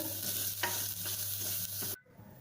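Chili powder being stirred into a browned masala in a pan for a field bean curry, a soft continuous sizzle with light scraping strokes that cuts off abruptly near the end.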